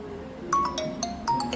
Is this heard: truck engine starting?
no